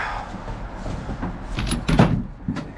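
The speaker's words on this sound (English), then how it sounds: "I gotta shut this door" A heavy door on an old White 9000 truck, out in the snow, is swung shut with a solid thump close by, after some faint rattling and knocking.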